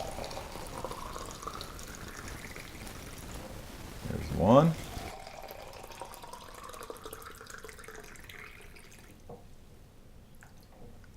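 Cups of filtered water are poured into a coffee maker, giving a short burbling splash midway through, with a quiet voice heard before it and softer trickling after.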